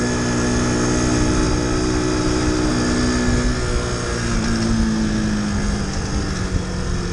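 A Mash 50cc four-stroke motorcycle idles up close with a steady, droning engine hum carrying strong tonal harmonics and a rough, vibrating edge, continuous throughout with no talking.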